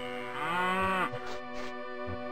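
A cow in the video game Daggerfall lets out a drawn-out, falling moo up close, followed by a few short game thumps and clicks in an otherwise quiet scene.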